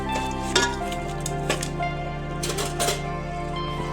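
Rice and masala stirred in a pot for egg biryani, a steady scraping and clinking of a spoon against metal, close and fairly loud, with no talking.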